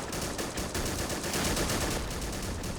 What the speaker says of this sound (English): using our 50 caliber machine guns to secure and take out any bunker out there